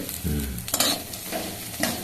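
Gobindobhog rice grains frying in ghee for bottle gourd payesh, a steady crackle with scraping stirring strokes and brief louder bursts, fairly close and on its own.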